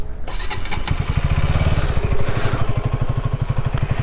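A KTM Duke 160 motorcycle with an underbelly exhaust starts up: a short cranking burst, then the engine catches into a fast, throbbing idle, loud and close, with no speech.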